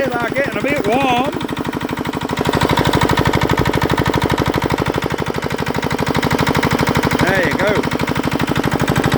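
A Petter diesel compressor engine, long unused, runs steadily with a loud, rapid, even chugging firing rhythm throughout, while a person speaks briefly near the start and again near the end.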